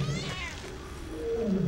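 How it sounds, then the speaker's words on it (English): A cat gives a single drawn-out meow, close and fairly loud over a steady background rumble. "He meowed at me like he was, like, answering me."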